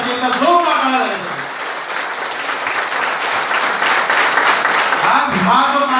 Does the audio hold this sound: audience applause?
yes